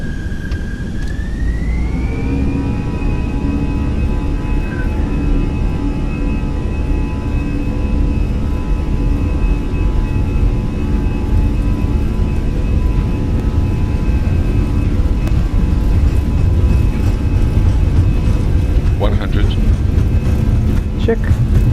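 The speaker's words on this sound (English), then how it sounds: "Takeoff." A TAP airliner rolls for takeoff on the Lisbon to Porto flight, its engines spooling up into a loud, steady roar with a rising whine that levels off and holds.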